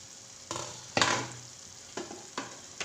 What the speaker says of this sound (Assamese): আৰু অকণমান লৰাই দিম।